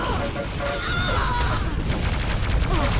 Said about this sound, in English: He didn't know where that machine gun fire was coming from at first.